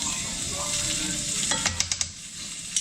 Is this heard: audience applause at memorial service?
no